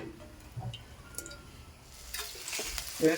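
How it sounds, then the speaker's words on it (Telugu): Sliced onions frying in hot oil for a chicken curry, giving a steady soft sizzle with occasional stirring ticks and scrapes in the pan, close and moderately loud. "కొంచెం ఆయిల్ వేసుకొని ఉల్లిగడ్డలు వేపుకుందాం"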